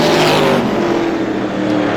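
Race cars at Star Speedway roaring down the front straightaway, a loud, close, continuous engine snarl with a passing sweep as they run bumper to bumper.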